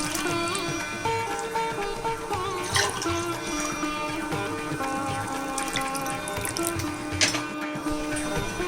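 Water from a glass poured into a tamarind fish curry in a cooking pot, a steady, close splashing and trickling that runs throughout without speech.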